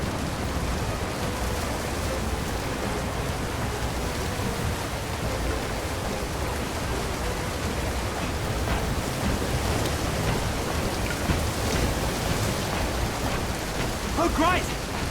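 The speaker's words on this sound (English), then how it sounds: "Now I've got a storm to deal with!" Rain pours during a thunderstorm in the Dead Island: Riptide video game, a dense, steady wash with low rumbling thunder rolling underneath and a brief tonal cue near the end.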